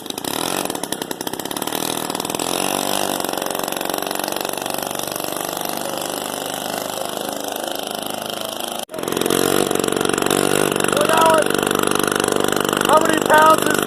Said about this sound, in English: We got, what, 200 pounds on a 49cc moped.